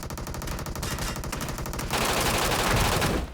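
Rapid automatic gunfire in the PUBG Mobile battle royale game, a loud, continuous stream of rattling shots that shifts to a denser, harsher burst of fire near the end, with no talking.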